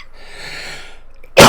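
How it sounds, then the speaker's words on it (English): A single loud, harsh cough bursts out near the end, close to the mic, after a stretch of quiet hiss. "Sorry about the coughing."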